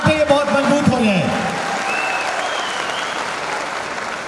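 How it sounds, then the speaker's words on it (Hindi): An audience at a network-marketing training session claps on cue. Loud applause fills the room, with a voice talking over its opening moments before the clapping carries on alone. "एक बार तालियां बजा के दिखाएंगे"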